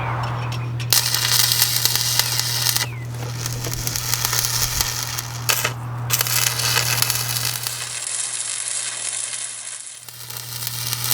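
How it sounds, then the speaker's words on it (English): Welder tack welding a receiver onto a home-built sawmill, giving a loud steady crackling sizzle in long bursts with brief gaps, over a constant low electrical hum. "I'll go turn Betsy the welder on"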